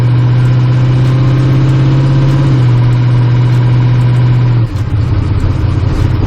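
Engine of a turbocharged LS-powered car running on temporary coils: a loud, steady idle with a strong low hum that holds, dips slightly midway, then shifts to a rougher, lower note near the end.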